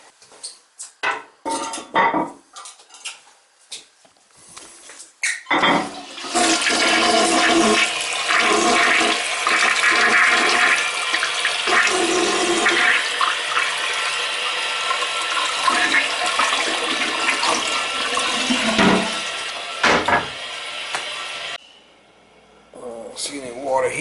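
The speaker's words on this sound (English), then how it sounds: "As long as the toilet flushes." A toilet in a summer home flushes just after the water supply is turned back on, a loud sustained rush of swirling water lasting about fifteen seconds after some clicks and handling noises, then draining off and refilling, with someone talking nearby.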